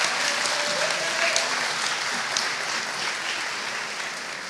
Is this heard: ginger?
no